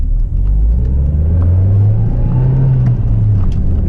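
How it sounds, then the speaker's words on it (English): A Nissan Pulsar pulling in first gear gives a loud, steady gear whine like a straight-cut gearbox, riding over a constant low engine rumble heard from inside the car as it accelerates. "it's got like a whine to it, almost like it's a straight cut gear"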